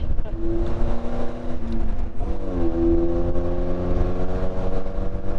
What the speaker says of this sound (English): And this is how a sports car should be driven. Hard and fast.